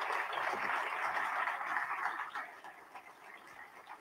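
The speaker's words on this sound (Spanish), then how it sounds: "Démosle la bienvenida con un caluroso aplauso a la cronista de Doctor" Warm applause welcoming a local chronicler at a community history event in Doctor González, Nuevo León; a dense, steady clapping wash that holds strong, then thins and tapers toward the end.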